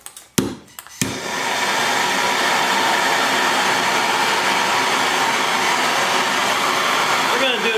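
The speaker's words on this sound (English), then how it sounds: "We're gonna use a little bit of map gas here." MAP gas torch heating a length of all thread rod, a steady loud roaring hiss that starts after a couple of clicks and bumps and then holds continuously.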